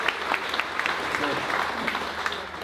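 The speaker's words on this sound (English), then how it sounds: "We were getting into our clapping groove nicely." Audience applause rolls along in a lively, uneven patter of hands, with individual sharp claps standing out from the steady wash, heard fairly close.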